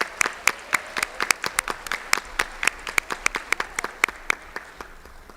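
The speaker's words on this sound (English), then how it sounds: "Let's give them a big round of applause." Audience at an evening justice ministry rally in Charleston breaks into applause, dense overlapping claps with sharp individual hits standing out, steady and fairly close for several seconds with no talking.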